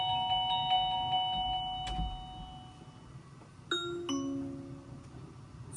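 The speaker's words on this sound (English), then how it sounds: "you can make use of those speakers to play a chime sound" A Reolink video doorbell chime rings out through a smart speaker, a few clear bell tones rising in pitch, close and fairly loud against a quiet room, followed by a short second ding-dong pattern.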